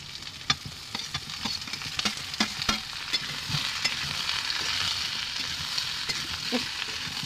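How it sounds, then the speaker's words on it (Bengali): Onions with crushed garlic frying in a pan as fried vegetables are added, a steady close sizzle with intermittent clinks and scrapes of a stirring spoon, no talking. "পেঁয়াজ আমার ভাজা হয়ে গেছে, ওতে ভাজা সবজিগুলো দিয়ে দেবো।"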